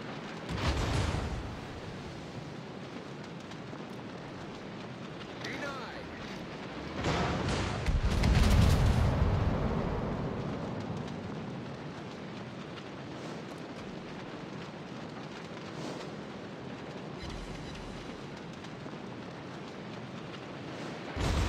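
Naval guns fire and shells explode in the World of Warships video game, with heavy booms at the start and a long rumbling blast near the middle, over a steady windy background with no talking.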